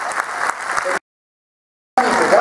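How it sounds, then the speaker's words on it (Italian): A concert audience in Bologna claps and applauds loudly, cut off abruptly by a second of silence before the clapping resumes. "un applauso del pubblico di Bologna"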